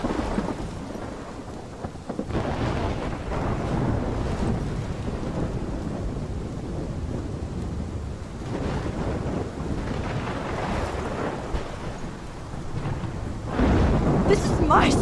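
A heavy thunderstorm in the video game Life is Strange, with dense rain and wind roaring steadily and deep thunder rumbling beneath, loud and unbroken throughout.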